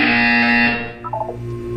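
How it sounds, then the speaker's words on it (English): A single flat electronic buzzer sounds in a Portal 2 test chamber, a steady harsh tone lasting under a second before a short electronic blip and low background hum. "When you hear the buzzer, look up at the ceiling."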